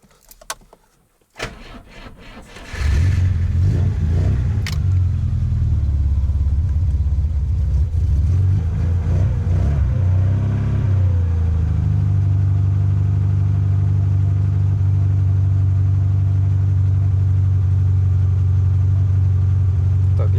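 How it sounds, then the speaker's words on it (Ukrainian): A car is cranked and started in severe frost around minus forty, a few clicks and a short churning crank giving way to a loud, rising rev that settles into a steady, rough idle rumble. "Так, запускаємо автомобіль для початку."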